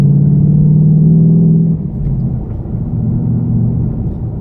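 A 2019 Ford Shelby GT500 engine gives a loud, deep, close rumble that holds steady, then drops in pitch and settles into a lower idle-like drone.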